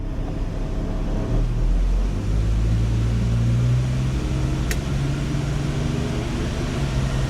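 Car engine on a dyno pulling hard in second gear, a loud steady drone whose pitch climbs gradually as the revs rise, with no talking.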